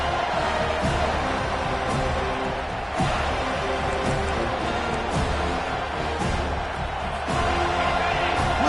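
Continuous roar of a packed stadium crowd in College Football 25, steady and full with periodic swells, under a faint game-commentary backdrop.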